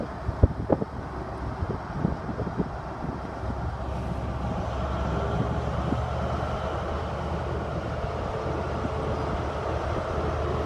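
Low, steady rumble of a Virgin Trains diesel passenger train, power cars 43318 and 43316, leaving platform 2 at Grantham, droning engine heard from nearby amid wind noise on the microphone, a few clunks early on.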